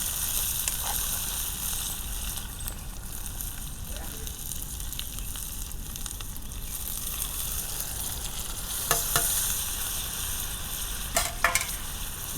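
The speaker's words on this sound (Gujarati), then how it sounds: "હવે આપણે ખમણેલા ટમેટા નાખશું." Grated tomatoes frying with onions in a pan on a village stove, a steady close sizzle with occasional stirring scrapes and clinks throughout.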